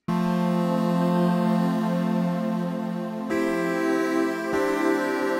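A sustained SynthMaster One arpeggio preset, Key Orbit 2, rings steadily with bright layered tones, shifting pitch twice, playing alone without any voices.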